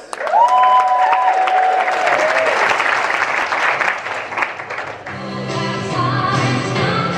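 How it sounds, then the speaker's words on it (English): Studio audience at a Red Dwarf Dimension Jump convention event breaks into loud, sustained applause with some cheering, then music begins as the clapping continues. "Give yourselves a round of applause."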